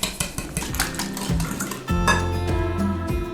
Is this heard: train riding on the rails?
no